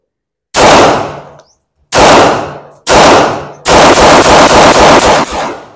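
A Sarsilmaz K11 pistol fires three loud, separate shots with short echoing tails, then a fast string of about six shots in quick succession. The reports are very close and sharp.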